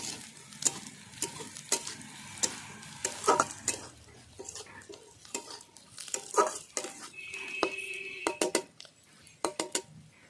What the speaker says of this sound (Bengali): একসঙ্গে পেঁয়াজ লঙ্কা একসঙ্গে বড়ি দিয়ে ভেজে নেব ভালো করে